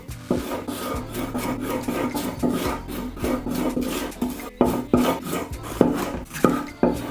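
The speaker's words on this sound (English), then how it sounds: "Just gonna cut it through here, just around the seeds." A knife slices through red and green bell peppers on a wooden board, giving a close series of uneven, rasping cuts and sharper taps throughout, with no voices.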